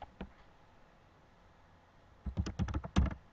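Close computer keyboard typing entering a PowerPoint title: a lone key tap, a quiet pause, then a quick burst of clicking keystrokes.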